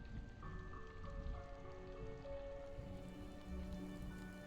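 Steady rain falls in Nancy Drew: Midnight in Salem, a dense continuous patter under soft tonal game music, with no talking.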